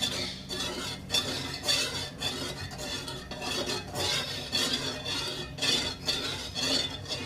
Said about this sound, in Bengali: এইভাবে আস্তে আস্তে নাড়তে থাকুন যাতে জিনিসটা লেগে না যায়